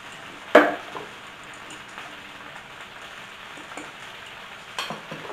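Spinach and shredded Mexican-blend cheese cook in a pan with a soft, continuous crackling sizzle, broken by a couple of brief clatters of a utensil, with no talking.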